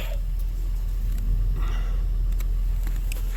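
A small all-wheel-drive car drives over snowy roads, giving a steady low rumble of engine and tyres that stays fairly constant throughout, with faint scrapes and ticks on top.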